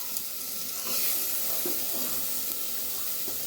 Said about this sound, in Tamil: இஞ்சி பூண்டு வதங்கினதுக்கப்புறமா நம்ம கட் பண்ணி வச்ச கேரட்டையும் ஊற வச்ச பட்டாணியும் சேர்த்துக்கிறேன்.